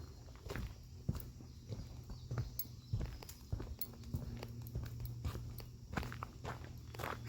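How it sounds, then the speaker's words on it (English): Boots walk across a footbridge at a nature center in Cincinnati, a steady run of close, hollow footfalls on the deck over a quiet outdoor background. "Let's listen to how my boots sound on it."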